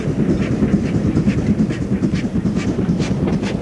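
A GWR steam tank locomotive named Goliath working on the Torbay and Dartmouth Railway in Devon, giving a steady low rumbling chuff with rhythmic clatter of wheels, close and continuous with no talk.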